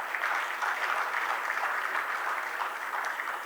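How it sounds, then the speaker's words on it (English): A symposium audience applauds in a steady, continuous patter of many hands clapping. The sound is fairly even and moderately distant, with no voices over it. "Another round of applause for him."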